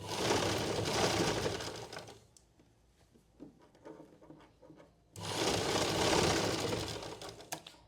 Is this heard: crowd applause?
no